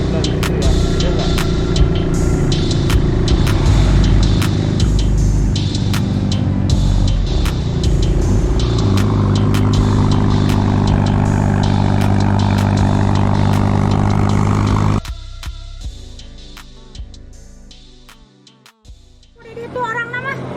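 An old Honda Win 100 motorcycle engine idling up close with a steady, throbbing hum, which drops away and turns quieter and more irregular in the final few seconds.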